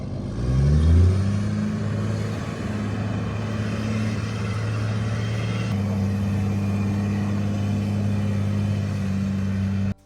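A car engine catches and settles into a steady, loud idle with a rising hum at the start, running continuously with no talk.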